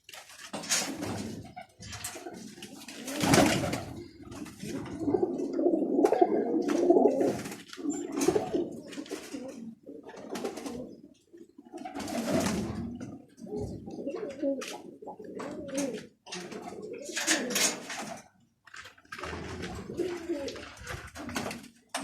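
Roller pigeons coo in low, soft murmurs close by, broken up by bursts of handling and rustling noise.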